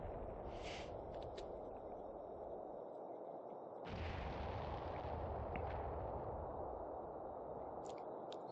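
A 7.9 mm anti-tank rifle fires in Combat Mission: Afrika Korps over a constant rumbling battle bed, with one heavy report around the middle and distant cracks scattered through, no speech.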